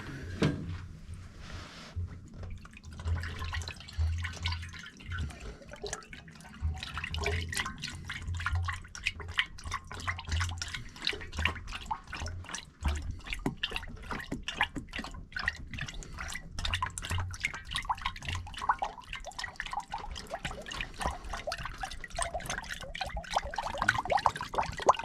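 Water and antifreeze poured into a car's cooling system, a continuous trickling splash with scattered drips and small knocks, fairly faint and steady throughout.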